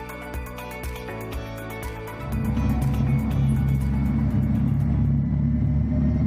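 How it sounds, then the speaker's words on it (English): Audi e-Tron GT electric motors running for the first time on a chassis dynamometer on the assembly line, building from light mechanical clatter into a loud, steady, low droning hum with no talking. "The motors run for the very first time on the chassis dynamometer."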